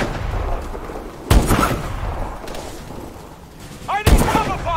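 Gunfire in the shooter Call of Duty: Advanced Warfare cracks out in two sharp, loud bursts a few seconds apart over a low rumbling background, with a voice briefly speaking after the second blast.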